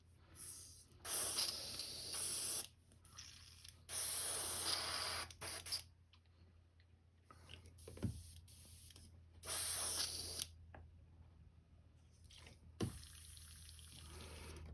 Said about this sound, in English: Clean my airbrush out real quick.